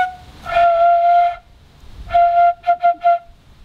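A beginner blowing a bamboo flute, producing a long wavering tone, a pause, another sustained note, then three short puffed notes in a row, loud and close with no talk.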